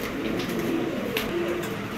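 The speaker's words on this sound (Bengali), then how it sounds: "এই যে এটা হচ্ছে মাদি কবুতর" Pigeons coo in low, rolling calls near a female bird being handled, several overlapping coos close and steady with a faint background hum.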